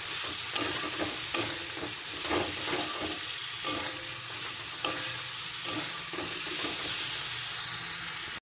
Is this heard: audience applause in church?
no